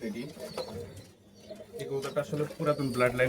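Red Bull pigeons coo in low, throaty warbles nearby, overlapping with someone talking.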